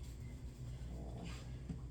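Dogs whimpering and faintly growling while wanting to go outside, soft and low in level inside a home kitchen during cake baking, with a steady background hum.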